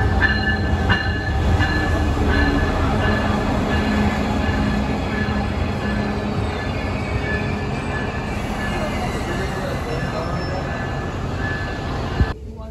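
Steady rumble of a Brightline passenger train in motion, heard from inside the carriage, with continuous wheel and track noise, a faint hum throughout and a brief knock near the end.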